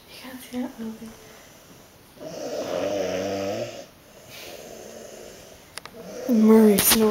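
A man snores in his sleep, with long drawn-out rumbling snores between quieter breaths, close to the microphone. Another person talks quietly underneath.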